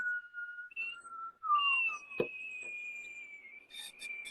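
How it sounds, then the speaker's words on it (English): A person whistles close by, alone, in a string of thin sustained tones that glide and shift pitch, with a few brief pauses and a sharp click partway through. "I can't whistle with my mouth open."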